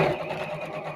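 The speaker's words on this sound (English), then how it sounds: "So let's fold this in half and sew along the long side." A sewing machine stitches fabric along a long side with a quick, rapid mechanical whir, close by, lasting about a second.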